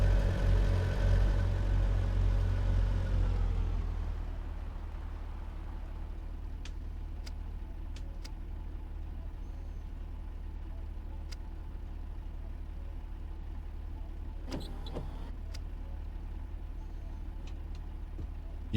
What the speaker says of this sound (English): The engine sounds pretty decent